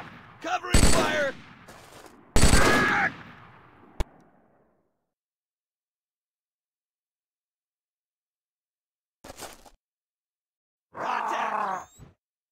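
Gunfire in Halo CE as marines lay down covering fire, arriving in a few loud bursts with grunts and shouts, then a quiet stretch before one more short burst and a sustained stretch of noisy combat near the end.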